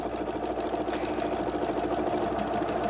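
A Husqvarna Viking sewing machine stitches a monogram from its M cassette, giving a steady, even mechanical whir with a fast stitching rhythm that runs unbroken and close-up throughout, with no talking.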